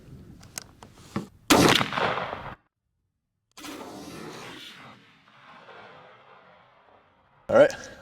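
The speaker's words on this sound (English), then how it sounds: "this was the Stevens 301 20 gauge with the Apex GT20 9 shot" A Stevens 301 20 gauge turkey shotgun loaded with Apex GT20 9 shot fires at a patterning target. One loud, sharp blast rings out and decays, with voices talking before and after it.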